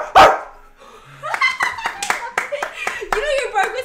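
A person imitates a dog with a string of loud, rough barks, close by. Hand clapping and cheering run underneath.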